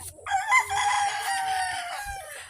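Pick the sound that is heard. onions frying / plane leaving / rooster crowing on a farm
rooster crowing on a farm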